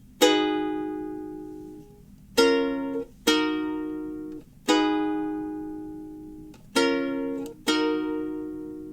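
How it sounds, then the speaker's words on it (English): Six ukulele strums for a song's strumming pattern, each a sharp bright attack that rings and slowly decays, in an uneven rhythm with no melody. It sounds close and clear, with no voices. "without any melody, this is what the strumming pattern should sound like"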